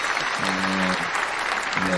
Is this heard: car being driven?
no